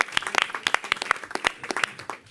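An audience claps at a mayoral announcement event, a brisk, uneven patter of hand claps lasting a couple of seconds at moderate loudness.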